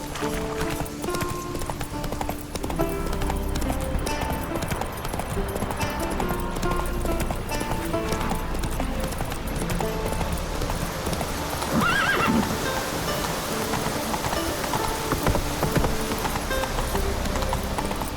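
Steady, rapid hoofbeats of a horse galloping in The Witcher 3 drum on continuously throughout, with a whinny rising briefly partway through over a dense game soundscape of ambient noise.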